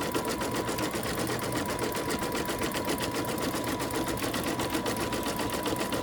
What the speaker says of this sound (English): And then I start to stitch it